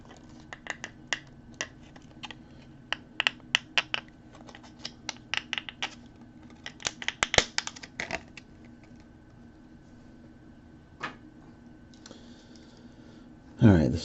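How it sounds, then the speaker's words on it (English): Close crinkling and sharp clicks of plastic wrapping being peeled off a 2003 Hess toy truck, in irregular bursts that thin out midway, then a louder rustle at the end. "Take this plastic off here."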